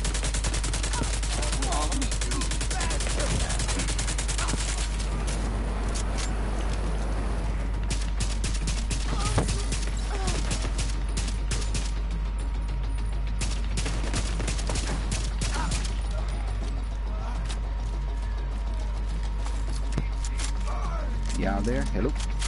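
Light machine gun fire in The Division 2 video game, near-constant rattling bursts and scattered impacts running throughout, with people talking over the shooting.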